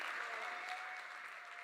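Audience applause for a Hall of Fame inductee at an induction ceremony, a steady, dense ovation of many hands clapping throughout, sustained and even in loudness with no break.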